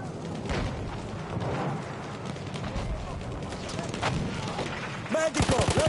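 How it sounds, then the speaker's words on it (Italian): Loud, continuous anti-aircraft cannon fire in a Battlefield battle, a dense roar of overlapping shots and booms with shouting voices mixed throughout and a sharper rattling burst near the end. "Cannoni antiaerei!"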